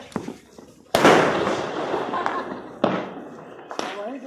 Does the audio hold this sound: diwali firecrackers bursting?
yes